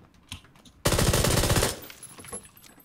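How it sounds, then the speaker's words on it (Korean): A burst of automatic gunfire in the shooter game PUBG (Battlegrounds), a loud rapid volley of shots lasting under a second alone, then fading into quieter game ambience. "총소리 경쾌"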